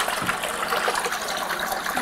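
A Conair bath spa foot bath is switched on, and its water jets give a steady gushing, bubbling wash of sound, close and continuous, with no voices.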